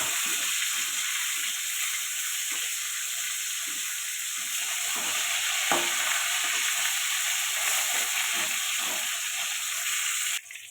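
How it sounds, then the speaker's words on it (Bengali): Pieces of boal fish, rubbed with oil, fry in a pan with a constant loud sizzling hiss and faint bubbling that cuts off abruptly near the end. No one speaks. "মাছ ভাজাগুলো হয়ে গেছে"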